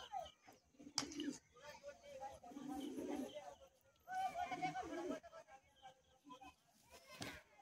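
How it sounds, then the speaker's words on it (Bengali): Pigeons cooing in a loft or sale yard, a male among them, soft repeated throaty coos in several bursts, fairly close, with occasional sharp clatters and a quiet voice underneath. "নর পায়রা মনে হচ্ছে"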